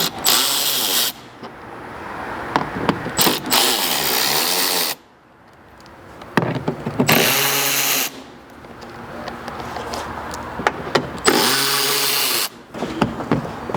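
Power tool whirs in repeated loud bursts of about one to two seconds, separated by quieter clicks and shop noise, while bolts come out of a 4th gen rear bumper and mud flap area.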